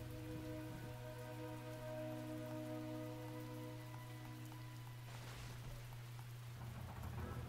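Steady rain hisses over a World War I battlefield in The Great War: Western Front, a dense, even wash of falling drops beneath a sustained low drone and faint tonal music.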